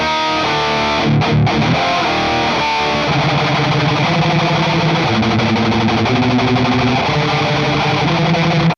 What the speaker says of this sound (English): this is a great sounding metal preset